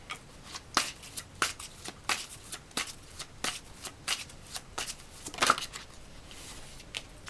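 Tarot cards shuffled by hand, a string of crisp riffling bursts and soft slaps repeating at an uneven rhythm, close and clear against quiet surroundings with no talking.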